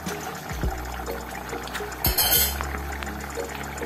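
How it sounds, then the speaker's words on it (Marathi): Tamarind pulp poured into a simmering oyster curry, heard as a short liquid splash and trickle with a faint clink of a spoon against the pot, over a steady background hum. "आता यात घालूया आपण चिंचेचा कोळ 3 ते 4 चमचे"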